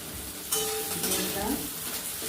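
Fried onion sizzles loudly as garlic paste, ginger paste, chopped capsicum and torn green chili are added to the hot pan, the hiss jumping up with a brief stirring scrape, close and without talk.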